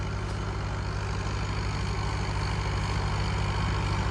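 A tractor engine runs on high, uneven farm ground with a trolley attached, a steady low idling rumble with a throbbing pulse, constant and close, with no talk.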